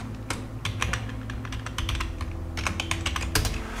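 Keys clatter steadily on a computer keyboard as an SQL query is typed: a close, fairly loud, continuous stream of quick clicks over a low steady background hum, with no voices.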